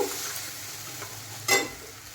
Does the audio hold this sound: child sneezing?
no